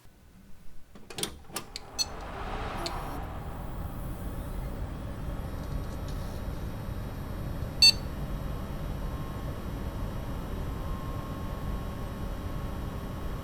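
A graphics card under load makes a steady, broad whirring fan noise throughout after a few clicks at the start, with one brief sharp click midway.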